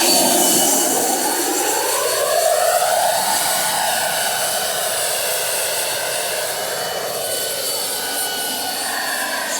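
Large turbine-powered RC helicopter running close by, a loud, steady, high-pitched jet whine with a roaring rush that shifts slightly in pitch as it moves, with no other sound.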